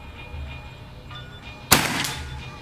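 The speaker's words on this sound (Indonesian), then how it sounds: "Ini tembakan kedua. Tembakan yang kedua." A single sharp crack from a PCP Predator Tactical 500cc air rifle firing its second shot, loud and close against quiet background hum, followed by a brief decaying tail.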